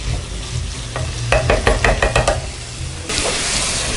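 Potato pieces sautéing in a pan for potato poha upma, a dense sizzle with a few sharp spatula scrapes and knocks in the middle, then the frying swells again near the end.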